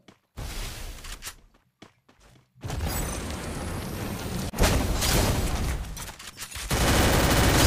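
Gunfire in the Free Fire video game, sharp separate shots and short bursts early, then sustained loud rapid firing that carries on with brief breaks.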